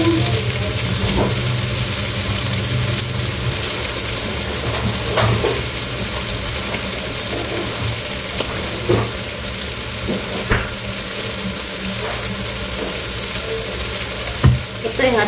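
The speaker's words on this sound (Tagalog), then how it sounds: "ang pagluluto ng ating curry pork" Curry pork frying and being stirred in a pan, a loud steady sizzle throughout with occasional clinks and scrapes of the stirring utensil, close up and without talk.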